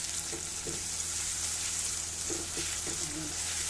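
Onions frying in a pan with salt added: a steady, moderate sizzle with occasional soft stirring scrapes, no talk.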